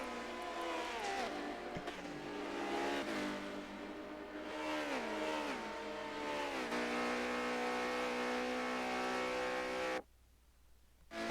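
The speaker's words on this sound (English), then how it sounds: "The engine sounds like a hungry, angry bear from Montana." Race car engine from the Forza racing video game, revving loudly with rising and falling pitch as gears shift, steady and close, dropping briefly near the end.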